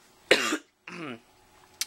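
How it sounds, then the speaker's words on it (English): Two harsh coughs sound up close, one right after the other, in an otherwise quiet basement. "something down in this basement is making me cough"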